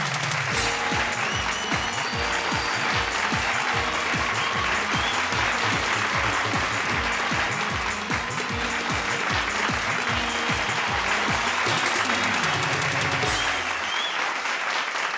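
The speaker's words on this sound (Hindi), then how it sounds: "जोरदार तालियों के साथ स्वागत कीजिए" A studio audience at a televised Bhojpuri comedy and poetry show breaks into loud, dense applause that runs the whole length without a break, with a rhythmic tapping pattern under the clapping before it thins toward the end.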